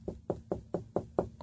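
Six evenly spaced knocks on a door, hollow thuds repeating at a steady rhythm and heard clearly on their own.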